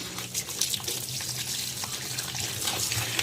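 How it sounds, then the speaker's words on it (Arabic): Tap water runs steadily into a sink while sandy lemon tomatoes are rinsed under it, a close, constant splashing flow with small surges and no talking. "ولازم نغسلها كويس قوي من الرمل"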